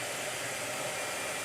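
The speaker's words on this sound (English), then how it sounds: "Blow dryer. Here we go again." A blow dryer runs over a watercolor painting, giving a steady, close, uniform whoosh of rushing air with no pauses.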